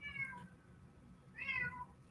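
A cat gives two short, faint meows separated by a brief pause, with a quiet background and no talking.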